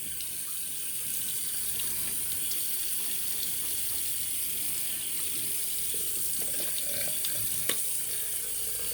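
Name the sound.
water running from tap to wet shaving brush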